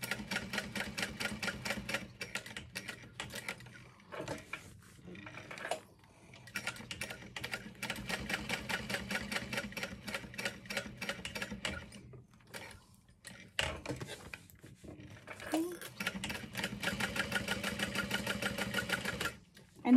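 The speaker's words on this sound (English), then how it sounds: "I'm still gonna backstitch at those corners because that just helps me pivot and get where I want to be." A sewing machine stitches a handbag's corners in rapid mechanical bursts, stopping and restarting repeatedly for backstitching and pivoting, close and moderately quiet.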